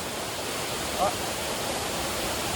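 A waterfall rushes in a constant, even roar with no breaks, filling the whole scene.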